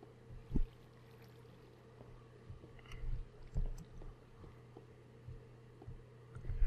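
Swimming through water in the video game Minecraft makes soft sloshing and splashing strokes. They come in irregular bursts over a low, steady background hum, with no talking.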